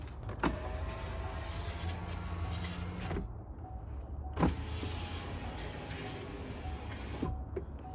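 A 2019-2025 Chevrolet Silverado rear door power window motor whirs steadily, running for a few seconds, stopping with a thunk, then running again, close and fairly quiet.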